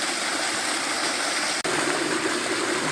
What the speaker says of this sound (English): The third waterfall on Crowden Little Brook, otherwise known as the Waterfall of Failure